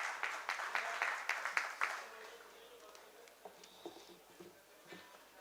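Brief audience applause for Pranjal Shukla at a legal talk on High Court appeals, scattered claps loudest in the first two seconds, then thinning into a few faint claps with background voices.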